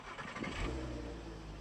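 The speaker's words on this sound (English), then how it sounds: "Now we've started the engine remotely" A car engine started remotely through a hacked alarm system catches and settles into a steady, close idle rumble, with a brief rise at the start and no voices over it.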